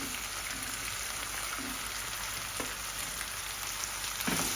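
Vegetables sauté in a pan for wheat upma with a steady, dense hiss and crackle, soft and close throughout, with a couple of faint stirring knocks and no talking.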